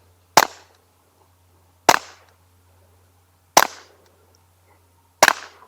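Four suppressed .22LR shots from a Rex Selentium MG22 rifle with supersonic ammunition: sharp, evenly spaced cracks about one and a half seconds apart, each decaying quickly, with no talk.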